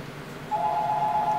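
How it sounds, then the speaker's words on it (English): A mobile phone goes off with a steady electronic tone that starts abruptly midway and holds, heard close and clear over quiet room noise. "And now my phone's going off"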